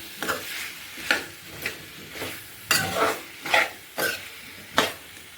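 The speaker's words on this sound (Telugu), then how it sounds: "కాసేపు ఇలా సిమ్లో ఫ్రై చేసుకోవాలి అరటికాయ" Raw banana pieces with salt and turmeric sizzling gently in a pan over a low flame, with soft stirring scrapes recurring every second or so in quiet, close, irregular bursts.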